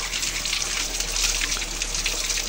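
A steady gush of water pours and splashes continuously, like spring water running into a container, close and fairly loud.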